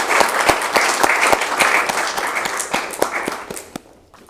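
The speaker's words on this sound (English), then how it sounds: "let's applaud both Jim and Judy" An audience applauds Jim and Judy after a family talk, a dense burst of clapping with sharp individual claps standing out, staying steady before fading quickly at the end.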